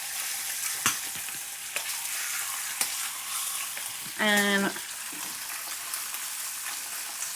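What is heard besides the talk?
patties frying on a stove burner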